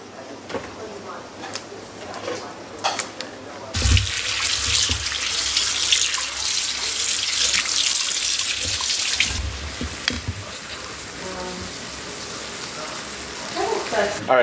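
Tap water running over crappie, perch and bluegill fillets being rinsed of scales in a sink, a steady loud splashing rush for several seconds between quieter handling noises.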